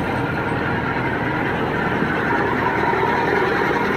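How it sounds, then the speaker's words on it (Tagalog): Road traffic on a main highway, a continuous dense roar of engines and tires that stays loud and even throughout, with a low vehicle drone and no voices. "Diba ang traffic?"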